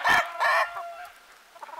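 Small chickens and roosters on a West Virginia farm, two loud, close clucking squawks followed by fainter, scattered clucks and chatter in cold weather.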